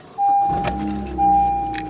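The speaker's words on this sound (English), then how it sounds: "car starts up, no problems" Keys jangle and a steady electronic chime sounds twice as a ninth-generation Honda Civic engine cranks, catches and settles into a low idle close by.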